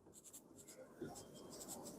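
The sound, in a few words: writing ionization energy on a board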